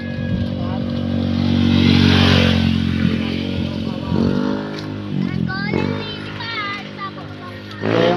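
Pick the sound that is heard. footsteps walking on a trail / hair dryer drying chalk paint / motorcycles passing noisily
motorcycles passing noisily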